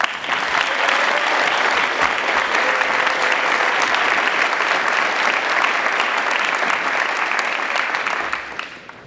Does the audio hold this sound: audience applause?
yes